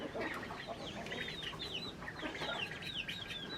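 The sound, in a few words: rooster clucking while chasing ducks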